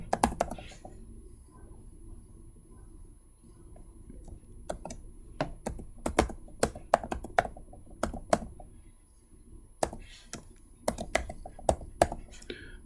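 Typing on a computer keyboard to log in to a library database, quick irregular runs of sharp clicking keystrokes with short pauses, close-miked and clear.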